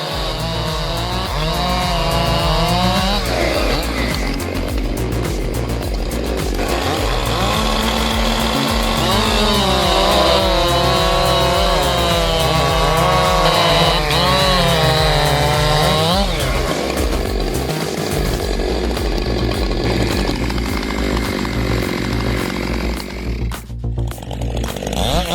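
Husqvarna 592 and Stihl MS 661 chainsaws run loud and steady while tearing through a 20-inch log, the engines revving and bogging as the chains bite, with a brief dip near the end.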